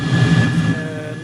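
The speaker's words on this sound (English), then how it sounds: "The button that I mapped for the afterburner is to toggle it on and off." A jet's afterburner in Microsoft Flight Simulator gives a loud, steady roar with a low rumble and a faint whine, swelling slightly and then holding even for a moment.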